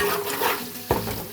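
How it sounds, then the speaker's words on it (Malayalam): Onions, green chillies and curry leaves frying in a pan while being stirred: a close, steady sizzle with two sharp scraping knocks of the spoon toward the end. "അതിനുശേഷം നന്നായി ഇളക്കി കൊടുക്കുക."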